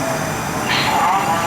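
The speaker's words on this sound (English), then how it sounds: "here comes the train" A metro train pulls into the Wiehle-Reston WMATA station in Reston, Virginia, a steady, close rumble of rail noise that builds with a brief brighter hiss partway through.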